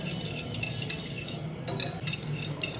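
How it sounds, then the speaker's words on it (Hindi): A metal spoon scrapes and clinks against a bowl while spice paste ingredients are stirred together for chicken tikka masala, a few sharp taps standing out from soft, steady mixing with no voices. "इन सब चीज़ों को ऐड करके मिक्स कर लें और अच्छा सा पेस्ट बना लें।"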